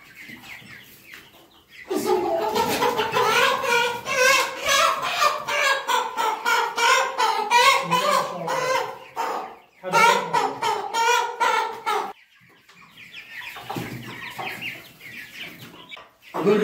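Sasso chickens raised at home cluck steadily in a dense, close chorus, with a brief pause before the calls resume and then grow softer and sparser.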